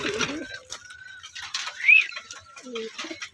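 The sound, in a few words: young racing pigeons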